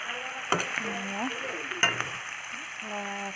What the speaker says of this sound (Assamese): ধুনীয়াকৈ দি পেলাই ধুনীয়াকৈ লৰাই ল'ম।